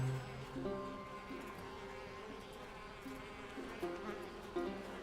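A steady, faint swarm of bees buzzing in a video game, a continuous droning hum with shifting tones and no talk over it.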